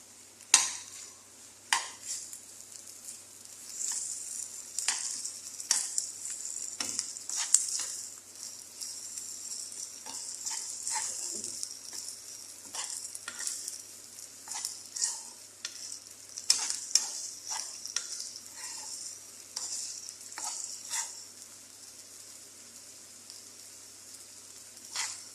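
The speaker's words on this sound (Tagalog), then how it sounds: "lalagyan na natin siyang 1 spoon na butter" Butter sizzles in a pan while a utensil stirs and scrapes, with irregular clinks of metal against the pan over a steady frying hiss, close and continuous for about twenty-five seconds.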